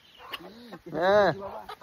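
A country-breed village chicken gives a couple of close calls: a short cluck, then a louder, drawn-out squawk that rises and falls.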